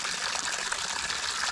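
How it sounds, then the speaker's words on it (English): Water gushes steadily from a garden hose at morning chores, a close, continuous hissing splash with no pauses or talk. "let's go turn off the hose, Sadie."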